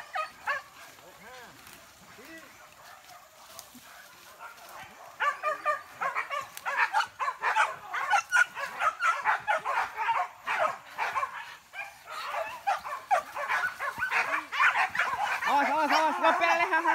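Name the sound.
hunting dogs barking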